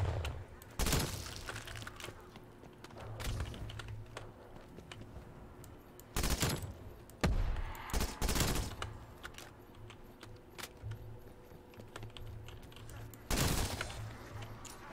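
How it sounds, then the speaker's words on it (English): Bursts of gunfire and grenade blasts crack out sporadically in a laggy online zombie shooter game, separated by quieter stretches. "Grenades flying."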